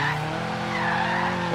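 Nissan 240SX drifting in Forza Horizon 3, a steady whine of tire squeal riding over a droning engine note that holds loud and unbroken for a brief moment.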